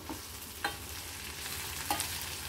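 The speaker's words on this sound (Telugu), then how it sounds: "ఒకసారి కలుపుకొని మళ్ళీ పెట్టేద్దాం మూత" A spoon stirs a beans curry simmering in a pot, with scrapes and soft clinks against the metal at a few points over a low, steady bubbling sizzle, close by with no voices.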